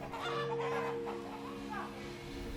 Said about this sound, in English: as you can hear from the chickens chatting in the background